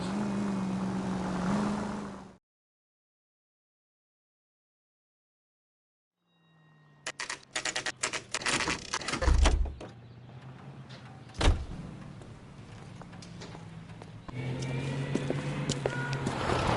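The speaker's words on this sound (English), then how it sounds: "That's the car, Cole. Just pulling out of the drive." Car pulling out of a driveway in the video game L.A. Noire, with engine rumble, door and mechanical clunks building after a stretch of silence, then a steady loud drive-away noise.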